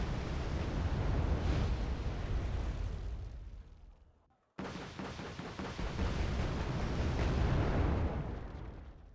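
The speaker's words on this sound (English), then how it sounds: "my hopes were crushed by the 2 bombing strikes from the Il-102s" Two heavy bombing strikes from Il-102 aircraft in the war strategy game Wargame: Red Dragon, each a long, loud, rumbling blast with crackling debris, separated by a brief silent gap.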